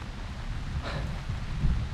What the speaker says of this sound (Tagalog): So, inabutan na tayo ng ulan, pero okay lang, pauwi naman na tayo.